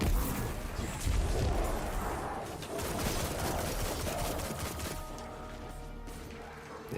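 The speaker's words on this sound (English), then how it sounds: "Just going to throw a grenade in there" A grenade blast in Destiny 2 gameplay gives a loud, close crash with a dense rumbling burst that decays into scattered gunfire and noisy combat clatter over several seconds.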